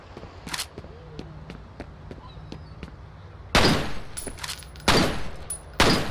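Pistol gunfire in the shooter game F.E.A.R.: single sharp, loud shots spaced a second or so apart, the last few heavier and louder, over a low game ambience.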